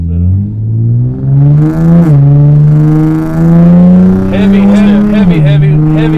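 An Infiniti G35 sedan fitted with a Z1 touring exhaust accelerates at half throttle, its engine note rising steadily in a loud, close drone, briefly dipping at a shift, then climbing again.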